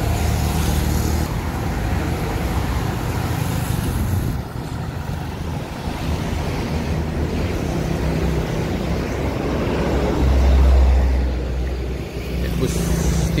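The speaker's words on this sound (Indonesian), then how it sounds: "Ada bus Batu Mukti Putra tempat Padi Kumis." A bus rolls through road traffic in Palembang, a continuous broadband roar of engines and tyres with a louder low rumble swelling near the end, while people speak faintly.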